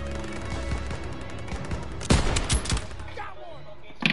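Covering gunfire in a PS4 war video game: sharp bursts of shots ring out around the two-second mark and again near the end, loud and close over a steady bed of battle noise.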